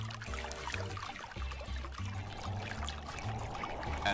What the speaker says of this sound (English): Water pumped from the water tank pours over the honeycomb cooling pad.